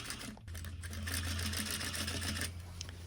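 A sewing machine stitching through layered drapery fabric in a workroom, a steady fast mechanical whir after a short start, close and continuous before easing off at the end.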